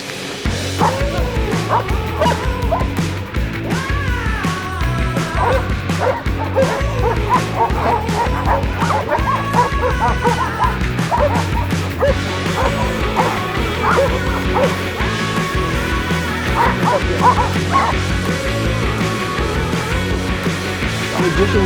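Several dogs at a purebred dog kennel bark and yip steadily, with some whimpering, loud and close throughout.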